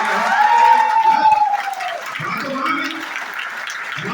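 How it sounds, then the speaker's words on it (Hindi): Audience applause at an RCM business seminar in Bhagalpur, a steady wash of clapping throughout, mixed with a sustained voice-like tone and some crowd noise. "तुम्हारी माँ के तुम ताली बजाओ"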